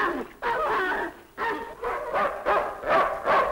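A dog barks in a quick series of loud, close yelps and yips, some sounding whimpering, repeated in separate bursts with short gaps between them.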